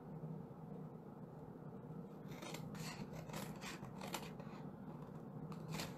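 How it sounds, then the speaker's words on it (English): Scissors snip along the score lines of a milk carton, a quiet run of crisp rasping cuts that grows busier in the second half, close up and alone. "we're just going to cut along these score lines all the way up to that bottom score line on all these tabs"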